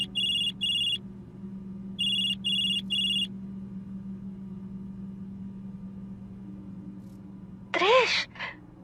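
A telephone rings in a narrated Tagalog horror story: two short bursts of electronic ringing, a pause, then three more bursts over a low steady hum, followed by a brief voiced sigh or groan.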